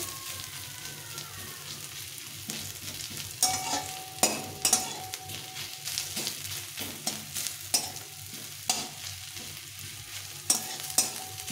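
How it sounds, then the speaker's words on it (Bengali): Two medium-sized onions fry in a pan for a fish bharta, a steady soft sizzle broken by irregular scraping stirs of a spatula, close and fairly quiet with no talking. "একটু সময় ধরে ভালো করে ভেজে নিতে হবে এরকম করে।"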